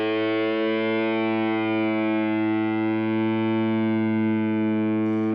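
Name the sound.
single lead synth note warbling through an all-digital effects pedal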